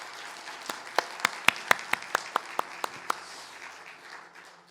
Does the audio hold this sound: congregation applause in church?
yes